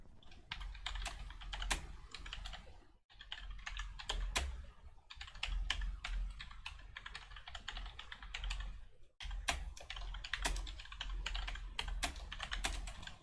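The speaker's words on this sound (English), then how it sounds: "Lots of typing." Steady, rapid typing on a computer keyboard, clicking keys in bursts with two brief pauses, close and fairly quiet, no voices.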